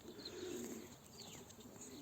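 Pigeons coo softly in low, rounded phrases, with a few faint higher chirps in the background; the sound is distant and steady, no voices present. The birds are tumbler pigeons flown in small groups.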